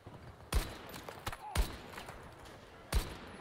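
Three sharp rifle cracks from an M39 EMR marksman rifle in Battlefield 2042, spaced about a second apart, each with a short tail, over quiet game ambience.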